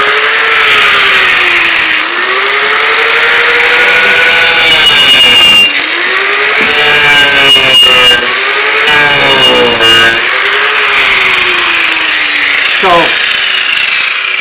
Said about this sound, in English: with this particular angle grinder, the switch here, you kind of have to press it down and then in